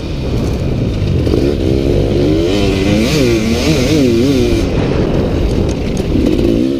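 Motorcycles at the start of a race, a loud close engine roar with rising and falling revs that sweep up and down continuously, and no talk.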